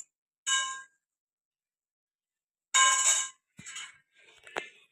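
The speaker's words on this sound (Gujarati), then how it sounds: "ક્રિશુ ઘસે વાસણ." Steel dishes clanging during washing at home, heard as two separate bright metallic rings with silence between them, followed by a few shorter clinks and knocks, close and fairly loud with no talking.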